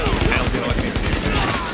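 Gunfire in the video game Tom Clancy's The Division, a rapid series of sharp, loud shots in quick succession, close and dense, briefly filling the moment.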